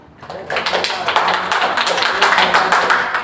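Quick rhythmic Indonesian scout clapping (tepuk pramuka) by a group, sharp claps in a patterned beat, fairly loud and close, with a few voices underneath.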